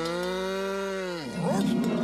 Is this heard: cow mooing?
yes